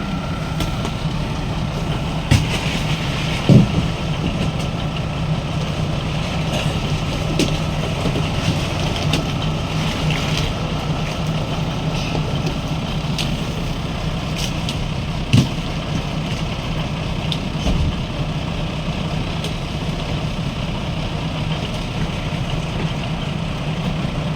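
A steady low boat engine idles continuously, a constant rumble with a few faint knocks and clicks scattered over it.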